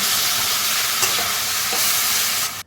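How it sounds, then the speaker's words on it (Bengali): Lote fish frying in a pan gives a loud, steady, close sizzle with faint stirring scrapes, cutting off abruptly at the end. "খুব বেশি ভাজবো না এরপর আমি এই মাছটা তুলে নেব"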